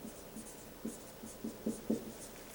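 Pen writing a word on paper for a biology lesson, a quick series of short scratchy strokes, close and fairly soft, with no speech.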